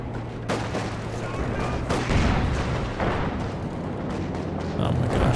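Rapid gunfire and heavy booms from a Company of Heroes 2 battle in the Spearhead mod, dense overlapping shots and bursts rolling continuously at close range.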